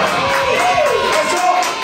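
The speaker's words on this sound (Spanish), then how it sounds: "Un aplauso, muchachos" A group cheers loudly for a singer as an interview begins in Seville. Close, sustained shouting and whooping voices blend into one continuous wall of crowd noise, with no distinct clapping standing out.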